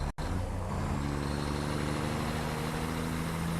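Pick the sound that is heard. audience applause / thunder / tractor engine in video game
tractor engine in video game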